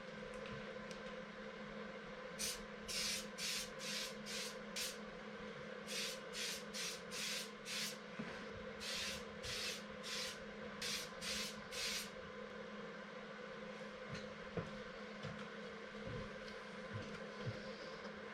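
Repeated short bursts from an aerosol spray can during work on a Can-Am Outlander ATV, about a dozen separate hisses grouped in rhythmic clusters, close and fairly loud over a low background hum with no talking.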